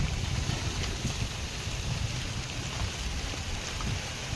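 Steady, soft rain falls continuously on a village, a gentle hiss of drizzle with a low background rumble and no voices.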